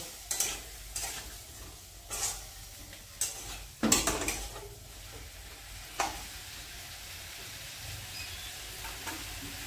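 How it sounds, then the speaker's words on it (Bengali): Potatoes and spice masala fry in hot oil as a spoon stirs and scrapes the pan in irregular strokes, over a soft, steady sizzle with no voices. "আলুর সাথে মশলাটা আমি ভালো করে কষিয়ে নেব। যতক্ষণ মশলা থেকে তেল না ছাড়বে ততক্ষণ ধরে কষাবো।"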